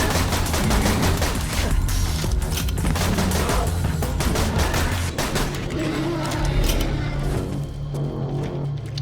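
Pistol fire in the shooter game Borderlands 2 comes as dense, rapid volleys of sharp shots with mechanical clatter, loud and continuous before thinning out near the end.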